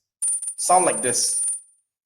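A steady, piercing 9000 hertz tone from an app holds for over a second while a voice speaks briefly underneath.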